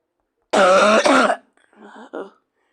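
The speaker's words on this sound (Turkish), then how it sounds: "Öksürük tuttu beni." A burst of harsh coughing up close, followed by a couple of fainter, shorter coughs or throat sounds.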